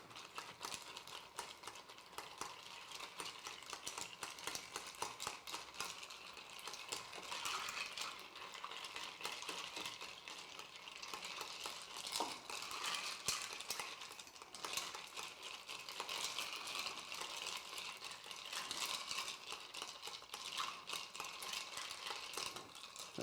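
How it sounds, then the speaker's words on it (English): Ice rattles steadily as a 100-proof rye cocktail is stirred, a faint, continuous clinking that runs unbroken throughout. "And then we're just gonna add some ice and we're gonna stir."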